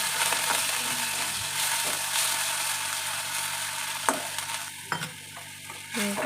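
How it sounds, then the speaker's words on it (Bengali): Tomatoes with ginger and garlic frying in a pan on a gas stove, a steady soft sizzle with occasional scraping stirs of a spoon, fairly quiet and close. "এটা একটু ভালো করে ভেজে নেব।"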